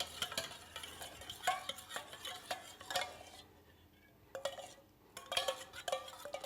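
A soy sauce marinade with pepper and chopped parsley is mixed for grilled swordfish, making a rapid run of close clicks and scrapes of a utensil against a dish, with a short pause midway and no talking.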